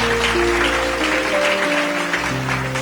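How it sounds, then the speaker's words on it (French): A church congregation claps and cheers loudly and steadily at a worship service, with sustained music and voices underneath. "Acclame très fort."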